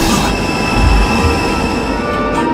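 Train in the video game Nobody Wants to Die, a loud close rumble of rolling railcars with steady high wheel squeal and rhythmic low thumps of wheels over the track.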